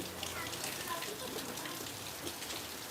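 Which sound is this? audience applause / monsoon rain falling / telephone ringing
monsoon rain falling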